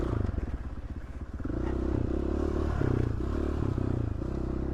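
A big four-stroke dirt bike engine labours and revs on a rugged Idaho trail, a close, loud, continuous rumble that surges and drops with heavy clutch work, plus clattering from the bike over rough ground.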